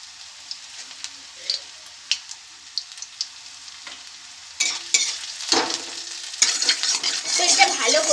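Fenugreek greens frying in hot mustard oil in a wok (kadai) with garlic and a little salt, a soft sizzle with scattered scraping stirs that swells into a louder, busier crackle in the second half.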